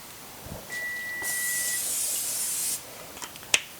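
A steady hiss of cooking spray into a crock pot lasting about a second and a half, close by, followed by a few light clicks and a sharp tap.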